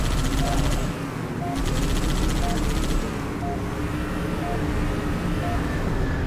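Sustained video-game gunfire from Halo 3: ODST, a steady rattle of rapid automatic shots with rhythmic repeating tones over a continuous battle din, fairly loud throughout.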